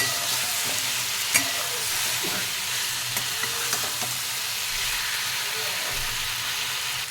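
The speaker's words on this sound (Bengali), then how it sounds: "সজনা ডাঁটা আলুগুলো ঢেলে দেব। দিয়ে আবারও ভালো করে নেড়ে নেব।" Fried drumsticks and potatoes are stirred in masala in a pan, giving steady frying sizzle and hiss with several scraping stir strokes and a few sharp clinks.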